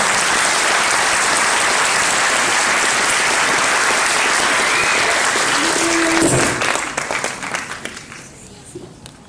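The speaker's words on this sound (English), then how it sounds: "give yourself a round of applause." A ceremony crowd gives a graduating spring nursing class a loud, dense round of applause that holds steady for several seconds, then thins out and fades toward the end.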